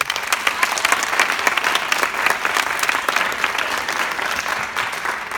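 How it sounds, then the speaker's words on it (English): An audience gives a round of applause for college freshmen, a sustained crackle of many hands clapping at an even, fairly loud level for the whole stretch, with no voices standing out. "let's give you guys a round of applause"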